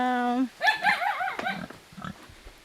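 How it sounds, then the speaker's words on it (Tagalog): Pig on a mango and coconut farm in Gumaca, Quezon, heard as a series of close, wavering squeals and grunts for about a second, followed by quieter background noise and faint voices. "Ayan, may alaga silang baboy."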